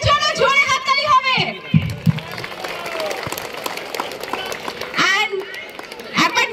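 Audience at a Friendship Cup football final clapping in a steady noisy wash of applause, between stretches of someone speaking loudly over a microphone.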